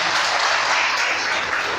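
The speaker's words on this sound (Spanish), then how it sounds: "vamos a darle un aplauso al Señor por su vida" Church congregation applauding together, a dense, steady wash of clapping at close range lasting the whole moment with no voices over it.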